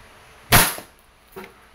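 A WE 2011 Hi-Capa T-Rex airsoft pistol fires semi-automatic, with one sharp, close crack followed by a fainter second pop and a small click, all in otherwise quiet surroundings.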